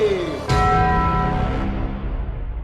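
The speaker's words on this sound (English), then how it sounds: "The bell rang when he said the name of the movie." A single bell strikes once, loud and close, with a clear ringing tone that slowly fades over a couple of seconds.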